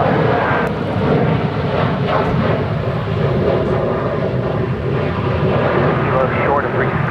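An airliner takes off at Dallas-Fort Worth airport, a loud, continuous jet roar that holds steady throughout with a faint radio voice over it.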